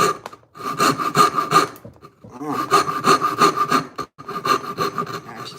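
Hand saw cutting wood in a home workshop, loud close rhythmic rasping strokes in three runs separated by short pauses.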